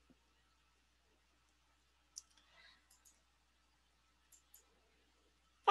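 Computer mouse clicks, a few sparse, quiet single and double clicks spread apart in a near-silent room, with a louder click at the end.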